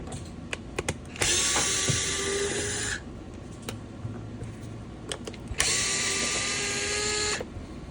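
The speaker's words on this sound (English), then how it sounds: "I've got a tool here, so I'm just gonna quickly unscrew these" A powered hex driver unscrews the M3 screws on a custom drum in two bursts of steady whirring, each about two seconds long, with small clicks and taps of handling between them and no talk.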